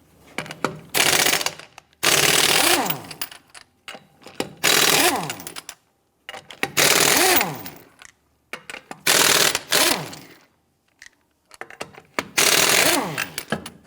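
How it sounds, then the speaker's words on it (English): An impact wrench with a 21mm socket works the wheel lug nuts off a 1992-1996 Toyota Camry, sounding as six loud buzzing bursts of about a second each, separated by short silences. "Using your 21mm socket, loosen and remove the lug nuts."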